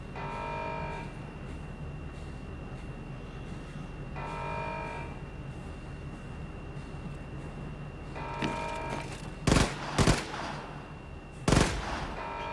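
Machine gun fire in the Wolfenstein II: The New Colossus shooter game, short rattling bursts over a droning background, ending in a few loud, close, sharp shots.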